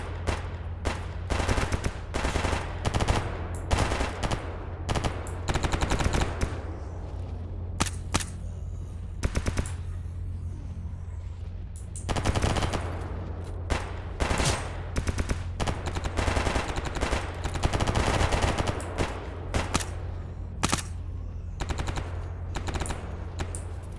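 Sustained gunfire in the video game Escape From Pripyat: repeated loud, close bursts of rapid automatic shots with short pauses between volleys, continuing over the whole stretch against a low steady hum.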